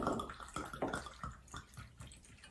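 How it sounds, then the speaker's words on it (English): Vodka poured into a jar half filled with fluffy herbs for a tincture, a steady close liquid trickle and splash with little drips throughout, no talking. "Pour in my vodka."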